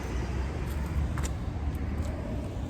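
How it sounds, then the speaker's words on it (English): A car drives off, a steady low engine and road rumble fading slightly, heard alone without talk. "That car left."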